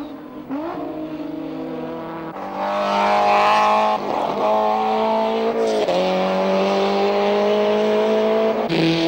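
A BMW M3 and a Mercedes at speed through slow and fast chicanes on a circuit, loud steady engine drone with harmonic whine, gear changes and revs rising and falling, including a sudden upshift near the end.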